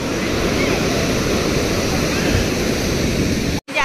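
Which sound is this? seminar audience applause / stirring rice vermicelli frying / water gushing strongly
water gushing strongly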